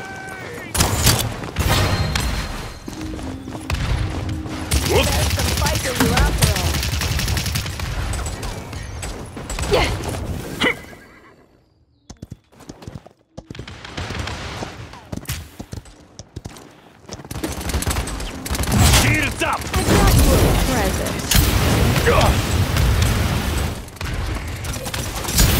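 Rapid bursts of gunfire in the Paladins shooter game on Xbox One, dense and loud almost throughout, broken by a brief quiet gap midway, with game sounds and effects layered over the shooting.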